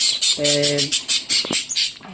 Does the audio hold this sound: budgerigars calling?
yes